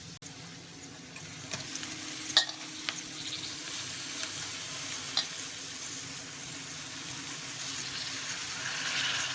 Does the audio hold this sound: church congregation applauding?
no